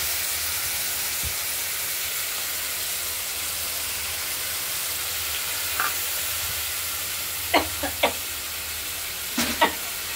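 Potatoes sautéed in a pan with a stone-ground spice paste mixed with turmeric give a steady low sizzle, with a few short sharp scrapes or clinks near the end and no talking.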